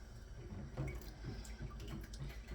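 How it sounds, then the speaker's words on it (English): Tap water running into a glass canning jar at home while preparing to can cranberry sauce, a close splashing, gurgling trickle that rises in pitch slightly, no talk. "fill one up with water and put it in there"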